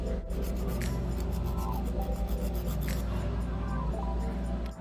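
A nail file rasps against a thick layer of poly gel nail in a run of quick, rhythmic back-and-forth scraping strokes, soft and close up.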